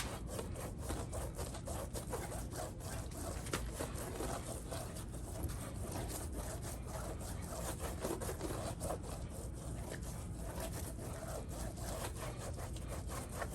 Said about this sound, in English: Now I'm gonna use one of these sponges to clean my tire.